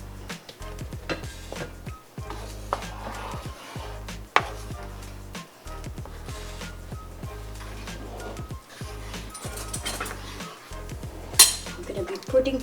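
Peanut butter being stirred into a bowl while preparing food, heard as repeated clinks and scrapes of a utensil against the dish, close and moderately loud, with some background voices.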